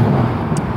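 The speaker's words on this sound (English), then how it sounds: "traffic's loud" Loud road traffic heard up close from a roadside walk, a dense steady roar of passing vehicles with wind buffeting the microphone, brief and unbroken.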